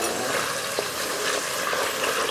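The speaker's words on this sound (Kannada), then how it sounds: "ಇದು ಆನಿಯನ್ ಈಗ ಅರ್ಧ ಫ್ರೈ ಆಗ್ತಿದೆಯಲ್ಲ, ಅಷ್ಟೊತ್ತೆ ಗಾರ್ಲಿಕ್ ಹಾಕುವ ಒಟ್ಟಿಗೆ" Chopped onion and garlic fry in a pan for chana masala, giving a loud, steady close-up sizzle with faint stirring scrapes and no talking.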